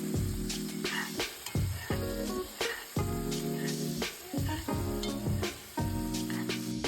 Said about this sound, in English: Fry the onions and tomatoes in a pan.